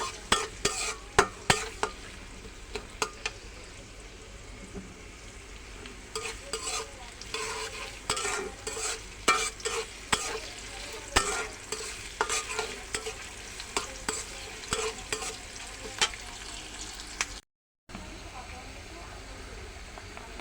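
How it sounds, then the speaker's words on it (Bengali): Spices with chili and onion frying in a pan, a steady sizzle with frequent scraping stir strokes close up, running continuously with a brief cut near the end; a voice speaks now and then. "এই যে সমস্ত মশলা আমি কষায় নিছি।"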